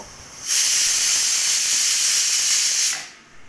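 A pressure cooker lets out a loud, steady steam whistle while boiling banana flower, a bright hissing blast that starts abruptly, holds for about two and a half seconds, then cuts off.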